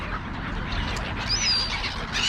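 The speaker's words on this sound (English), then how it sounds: "There's a smaller group of gulls." Gulls calling in a small group near an open field, thin squawks and cries scattered over steady wind and broadband outdoor noise, moderately close.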